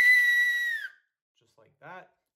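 A loud, sustained hand whistle made by blowing through cupped hands rings out steadily for almost a second, then stops abruptly. Brief faint voice sounds follow after a short silence.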